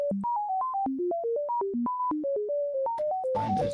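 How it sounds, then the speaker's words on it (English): A QTSynth software synthesizer plays a quick run of bright single notes jumping up and down in pitch, each with a short reverb tail, ending in a brief noisy burst. "Let's also add reverb just for fun."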